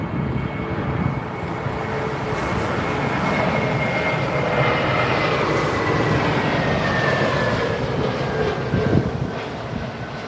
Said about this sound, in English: British Airways Neo, I think this is. Yeah, A320 Neo.